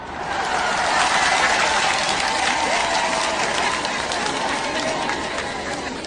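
A crowd at a political rally ululates and cheers in a loud, sustained roar, with wavering trilled cries riding over clapping and crowd voices.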